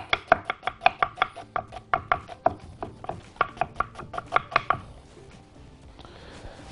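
A knife chops food on a cutting board in a restaurant kitchen, a steady run of about twenty crisp, close taps that stops abruptly, followed by faint scraping; no talking.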